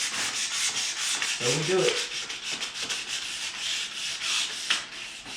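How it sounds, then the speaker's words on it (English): Wooden door panels, including the molded inner sections, are hand-sanded with sandpaper, giving a steady close scratching rub that runs almost without pause, with a brief spoken remark partway through. "then we just go down the grits with the sandpaper"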